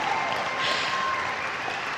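An audience at a live Rosie the Riveter Trust Big Bash event applauds, with dense, steady clapping that fills the whole moment without pause.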